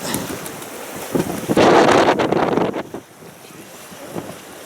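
Force 5 to 6 wind buffets the microphone on a sailing boat over the wash of sea, swelling to a loud roaring gust before easing off.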